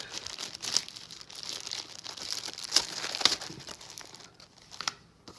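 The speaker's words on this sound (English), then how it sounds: "Double-sided tape." Double-sided tape from a Mercedes W124 LED headlight upgrade kit is peeled and handled, giving close crinkling, crackling and short tearing sounds with a few sharper rips and no talk.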